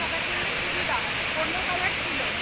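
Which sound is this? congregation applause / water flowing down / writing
water flowing down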